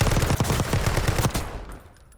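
Rapid automatic rifle fire in a video game, a loud, dense burst of closely spaced shots lasting about a second and a half, then cutting off into a quiet tail.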